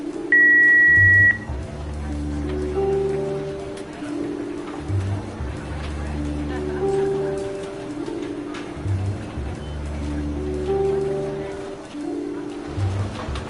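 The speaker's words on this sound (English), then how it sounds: "Please leave a message at the beep" A single sharp answering-machine beep sounds near the start in a Jackbox video game, followed by a repeating low electronic hum pattern under faint background voices.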